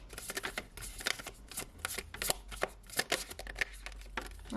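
Quick riffle-shuffling of a tarot card deck, a dense run of crisp card flutters and snaps repeating in short bursts, close and fairly loud with no talking.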